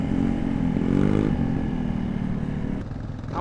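A two-stroke dirt bike engine is heard in a parking lot, close by and loud. It holds a buzzing, rattly rev with a rise and fall in pitch, and there is no talking.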